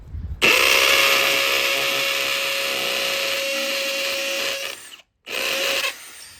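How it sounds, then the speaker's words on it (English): A Milwaukee Fuel hammer drill in hammer mode drives a masonry bit into a cement block with a loud, continuous buzzing grind, stops briefly, then runs again for a short second burst. "I've got this all the way into hammer mode and a masonry bit."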